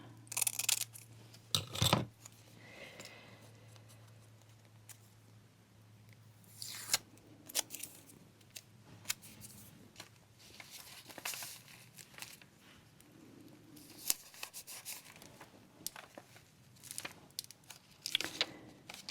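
Scissors snip through a small piece of tape close by, giving a few short, crisp cuts scattered among quiet handling rustles.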